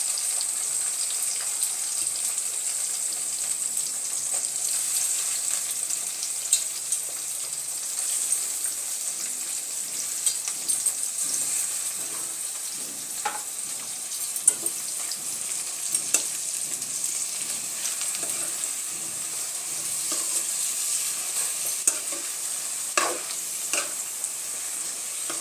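Brinjal (eggplant) pieces frying in oil for brinjal rice (vangi bath), a steady bright sizzle that runs throughout at moderate level, broken by occasional soft stirring clicks and scrapes, with no talking.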